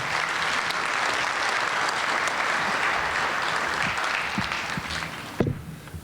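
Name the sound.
audience applause for the panelists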